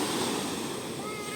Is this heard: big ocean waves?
yes